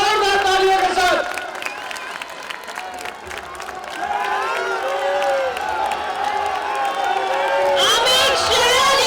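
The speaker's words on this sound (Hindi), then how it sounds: "जोर शोर के साथ हम अपने प्रिय नेता श्री अमित शाह जी का स्वागत अभिनंदन करते हैं जोरदार तालियों के साथ।" A crowd claps and cheers to welcome a leader at an Indian political rally. The noise swells beneath a loud amplified voice and rises again at the end.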